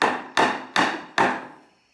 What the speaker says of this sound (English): you can use a hammer after the screw's in to kind of bang on it a few times to get it into place